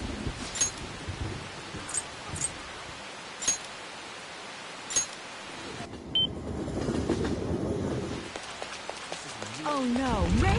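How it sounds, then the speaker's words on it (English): Steady rain from the video game Persona 5 Royal hisses throughout, with a few soft clicks early on and voices talking over it in the second half. "Oh no, rain?"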